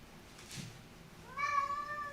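A cat gives a single clear meow near the end of a short stretch of quiet room tone, with a faint earlier rustle.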